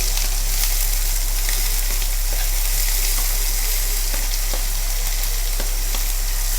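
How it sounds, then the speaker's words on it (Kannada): Chopped onions and curry leaves frying in a pan for egg sukka, a loud, steady, dense sizzle with faint scattered ticks of stirring running through it, close and continuous with no voices. "ಈರುಳ್ಳಿಯನ್ನು ಆ್ಯಡ್ ಮಾಡಿ ಒಳ್ಳೆ ಮಾಡಿ ಫ್ರೈ ಮಾಡಬೇಕು"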